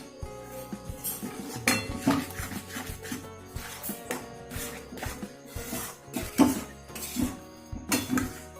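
A spoon works through a motichur ladoo gram flour mixture in a pan with the gas turned off, giving repeated close scraping and clinking strokes at a steady, uneven rhythm, with no talk.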